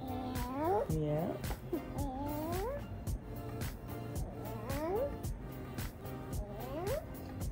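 A pet cat gives several rising, drawn-out meows spread across the stretch, mixed in with people talking nearby.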